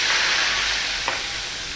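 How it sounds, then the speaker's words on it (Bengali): Onion paste sizzles in hot oil with black cumin, a loud, steady, dense frying hiss close up, with one faint scrape of stirring partway through and no voices. "পেঁয়াজটা ভালো করে, যেহেতু বাটা পেঁয়াজ, ভালো করে এটা ভাজতে হবে"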